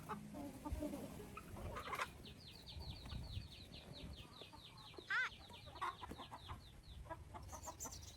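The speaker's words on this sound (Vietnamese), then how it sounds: "the chicken coop, where her grandparents' flock was leisurely strolling around" A flock of chickens in a coop on a grandparents' farm, strolling and scratching the dirt, gives off quiet clucks and repeated higher calls, soft and fairly distant, with faint background noises mixed in.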